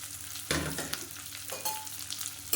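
Shallots and green chillies sauté and sizzle in a pan while being cooked for a kodo millet dish, a steady crackling fry broken by a few scraping stirs, close and with no talking.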